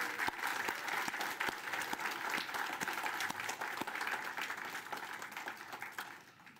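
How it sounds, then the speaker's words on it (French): A church congregation at an evangelical Baptist worship service claps together in a warm, sustained round of applause, many individual hand claps blending and then slowly tapering off. "Est-ce que vous les applaudissez avec moi?"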